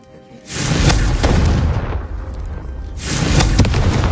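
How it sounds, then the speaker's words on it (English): A Confringo fire spell blast in the Hogwarts Legacy video game: two loud, roaring whooshing bursts with deep rumbling bodies, the first lasting about a second and a half and the second following after a short lull. "a Confringo cast travels a bit farther than that of a spell like Incendio"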